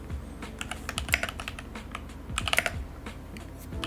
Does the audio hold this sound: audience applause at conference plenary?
no